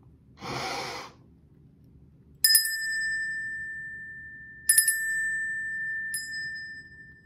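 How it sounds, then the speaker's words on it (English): Three bright metallic bell rings, each a sharp strike with a long ringing tail, spaced a couple of seconds apart in a quiet room, preceded by a breathy gasp or exhale. "I'm going to ring the bell."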